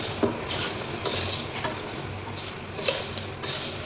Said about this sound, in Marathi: चिवडा कितीही चम्मचने फिरवा, पण हाताने फिरवल्याशिवाय चिवड्याची मजा येत नाही.